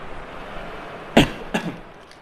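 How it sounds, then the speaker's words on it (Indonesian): Two short coughs in quick succession from a nearby person, the first louder and sharper, the second softer with a brief tail, over a quiet background. "lagi batuk nih."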